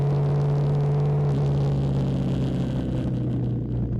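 Liquid-cooled single-cylinder 250cc Kawasaki Z250SL naked bike engine droning steadily while commuting, loud and close with a strong low hum and a slight pitch change partway through, no talking.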